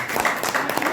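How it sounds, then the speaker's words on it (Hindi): Audience applause, a brief wash of many hands clapping at once, steady and fairly close, lasting under a second. "बहुत इसके लिए ताली बजा दो"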